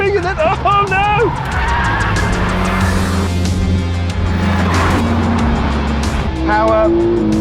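Racing Ford Focus cars on a track, engines roaring loud and close with squealing tyres and shifting pitch as they jostle, someone talking excitedly over the noise throughout.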